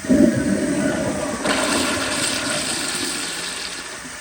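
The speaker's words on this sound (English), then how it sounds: "Here is another flush." A 1997 Kohler Highcliff toilet flushes with a loud rushing surge of water that swells, then settles into a steady draining wash, heard up close.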